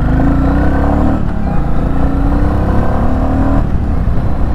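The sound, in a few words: Royal Enfield Classic 350 motorcycle exhaust, pulling away in first gear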